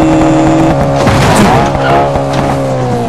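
Fast car in the BeamNG Drive video game skidding hard, with continuous tire squeal over a roaring engine, loud and close for a few seconds without speech.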